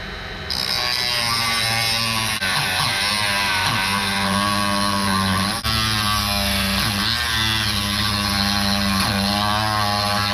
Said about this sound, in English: you don't want to go too deep with the Dremel, because if you do, you can break the head of that screw off